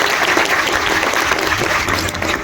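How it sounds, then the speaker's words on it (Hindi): Audience claps for children at a live show, a short burst of dense, loud applause filling the whole moment without voices. "एक बार जिन बच्चों ने किया है उनके लिए तालियां बजाएं दोस्तों"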